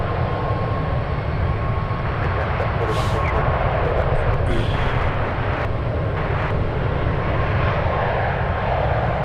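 A United Airlines intercontinental airliner arriving from Tokyo Haneda lands at San Francisco, its engines a steady, loud broadband roar that fills the whole stretch with slight swells and no talk.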